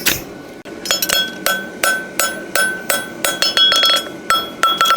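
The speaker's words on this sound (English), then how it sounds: "I'm aiming the round side of that ball peen to the corner of the anvil" A ball peen hammer rings sharply on a horseshoe held over the corner of an anvil at a farrier forge, about a dozen bright metallic strikes in quick, uneven rhythm, each with a short ringing decay, close and loud.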